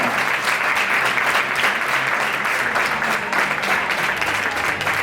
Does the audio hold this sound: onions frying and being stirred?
no